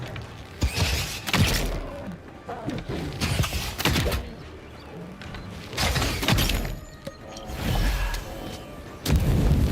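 Grenade blasts and crashing impacts in the video game Avowed, several loud sharp bursts spaced a couple of seconds apart amid a cluttered background of game sounds.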